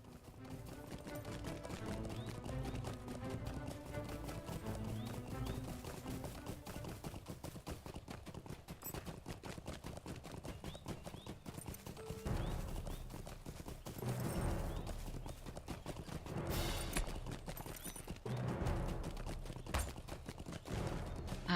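A horse mount's hooves clip-clop in a fantasy video game while a dwarf hunter rides, a faint, steady galloping rhythm mixed in with quiet game sounds.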